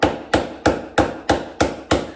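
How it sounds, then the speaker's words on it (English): Seven loud, evenly spaced hammer blows against a wall during a DIY living room crack repair, each a sharp close impact with a short decay, about three strikes per second, no voices. "I'm not used to swinging a hammer like this."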